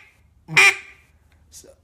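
A hand-blown duck call imitating a hen mallard gives one short, loud, clear quack near the middle, then a brief fainter second note, with near silence around them.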